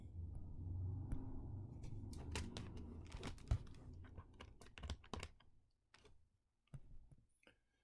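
Keys on a computer keyboard are tapped in quick, irregular bursts of sharp clicks, close and fairly quiet, thinning out toward the end with a few spaced final strokes and no talking.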